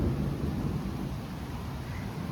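Thunder from a rainstorm rolls as a faint, low, continuous rumble. A soft wash of rain noise sits over it.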